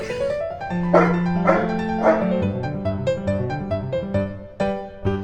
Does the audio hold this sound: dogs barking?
yes